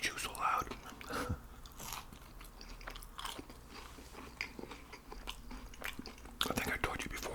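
Crunchy bites and wet chewing of a McDonald's Big Mac and fries, close up and fairly quiet, with repeated munching and occasional sharper crunches over a soft steady background.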